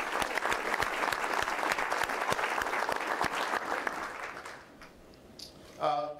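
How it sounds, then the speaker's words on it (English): An audience at a city's State of the City address gives a round of applause, dense clapping from many hands that fades out after about four seconds, followed by a brief voice. "Please join me in giving them a round of applause."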